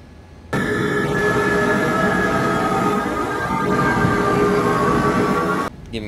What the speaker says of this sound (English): So we'll go ahead and start engine 2.